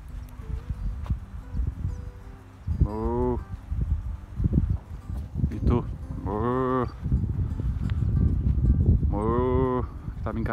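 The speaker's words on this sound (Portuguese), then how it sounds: "Umas vacas me observando ali, ó." Cows in a rural field lowing several times, long wavering moos near the microphone, with footsteps and handling noise throughout.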